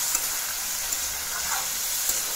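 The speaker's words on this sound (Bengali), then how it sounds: "মশলাগুলো দিয়ে প্রথমে ফ্রাই করে নিচ্ছি" Turmeric and cumin powder fry in a pan, giving a continuous, even sizzle with faint stirring scrapes and no voices.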